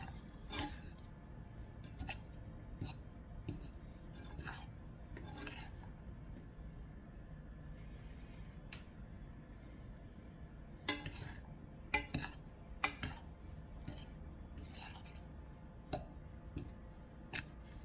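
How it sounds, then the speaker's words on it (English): A fork mixes saffron basmati rice in a pot, making sparse, light metallic clinks and scrapes, scattered early and then a busier cluster of sharper taps near the end, all close and quiet. "Mix it up with a fork."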